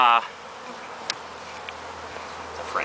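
Honeybees buzz steadily through a hive inspection, a close, continuous drone that holds under a brief louder sound at the start, with a few small clicks scattered across it.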